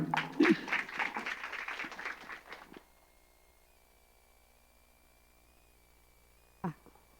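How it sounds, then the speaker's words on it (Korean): A short burst of church congregation clapping for about three seconds, then quiet room tone, ending with a single faint thump. "우리 큰 박수로"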